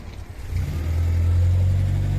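An Anadol car's engine rumbles low and close, rising into a sustained steady rev after a brief softer start.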